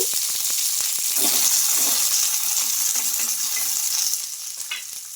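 Green chilies frying in hot oil in a kadai, a loud close sizzle with sharp spatter pops and stirring clicks, easing slightly toward the end.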